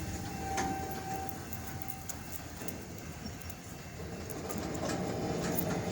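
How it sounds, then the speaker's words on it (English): Two trains move together at night in Valliant, Oklahoma, heard as a continuous low rumble with faint wheel clatter and occasional metallic squeals, moderately distant and steady throughout with no talk. "man, two trains here at the exact same time."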